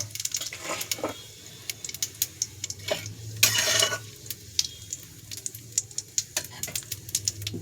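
Soaked coconut stirred and fried with cumin in a home pan, rhythmic spatula scrapes and metallic clacks over a low crackling sizzle, close up, with a brief louder burst of frying midway and no talking.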